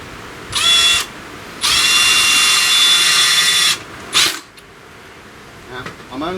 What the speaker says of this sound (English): I'm only putting the 2 screws in this from here now.